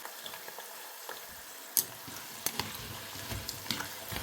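Sweetened plantain chips fry in bubbling oil, giving a faint, steady sizzle with scattered small pops and crackles close by, no talking.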